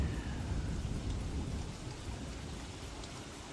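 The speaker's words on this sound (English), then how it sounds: "And it's raining" Steady, dense rainfall with a low thunder rumble from Don't Starve: Shipwrecked fills the scene, heard alone at a fairly quiet level.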